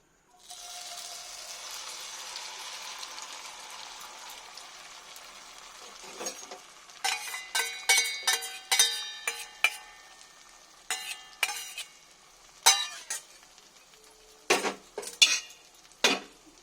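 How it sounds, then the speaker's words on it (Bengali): Maggi noodle mix tipped into hot oil in a pan sizzles softly at first, then a spoon scrapes and clinks against the pan in a run of sharp, irregular strokes, close and moderately loud. "তেলটা আমার গরম হয়ে গেছে। এবার আমি যেটাই বানিয়ে রেখেছিলাম সেটাকে আমি দিয়ে দিলাম।"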